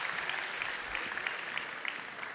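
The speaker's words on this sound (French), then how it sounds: "Voilà, applaudissements." Audience applauding at an innovation award ceremony for social housing, a sustained even burst of many hands clapping that fills the room with no voices over it.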